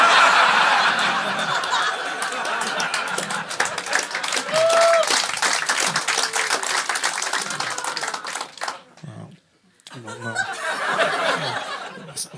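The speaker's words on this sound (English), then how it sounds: "Some of the applause is hurtful," A comedy show audience claps and applauds loudly for several seconds with some laughter mixed in, then it briefly drops off before clapping swells again.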